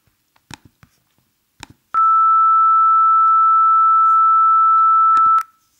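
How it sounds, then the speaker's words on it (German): A pure 1320 Hz sine tone generated in Audacity holds steady and loud for about three and a half seconds, then cuts off, with a few soft clicks before it starts. "Das war ein Sinuston mit der dreifachen Frequenz 1320 Hertz und einem Drittel der Amplitude."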